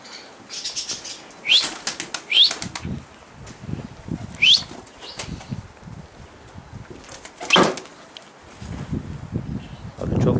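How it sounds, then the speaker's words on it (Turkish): Wings clatter in several sharp bursts as a Turkish performing (oyunlu) pigeon flaps in flight, with quieter stretches and low background noise between the flurries. "Evet kuşumuz havada."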